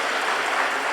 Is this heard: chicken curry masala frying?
no